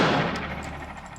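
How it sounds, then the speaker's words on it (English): A PSA AK in 300 Blackout with a Krink-style short barrel fires 150-grain rounds outdoors, a single loud sharp report at the start followed by a decaying echo tail. "I'm gonna shoot a few rounds of this"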